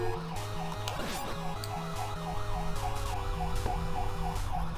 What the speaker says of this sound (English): Sorry for the sound of that ambulance in the background